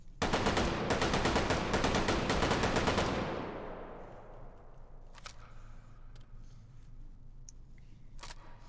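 A Bren light machine gun fires a fast, loud sustained burst of rapid shots for about three seconds, then the echo rings away into a quiet outdoor range with a few faint distant clicks.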